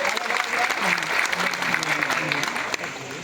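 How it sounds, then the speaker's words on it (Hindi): Loud, dense applause from an audience at a state-level community conference in Bhopal, with continuous clapping and voices murmuring underneath throughout. "तो आप एक जोरदार ताली इस शख्सियत के लिए।"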